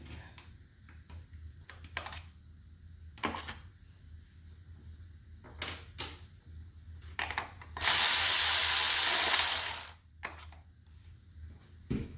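Bolts being removed from the valve cover of a Mini Cooper R56 engine, scattered clicks and taps of tools, then a loud two-second whir of a power driver.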